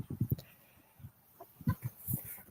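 A rooster at a fence, eager to fight another rooster on the other side, gives a string of short, low clucks in uneven bursts, fairly close and moderately loud.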